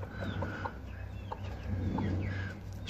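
A broody hen sitting in a tin nest box clucks softly and repeatedly, low murmuring calls close by, with faint chirps and other birds in the background.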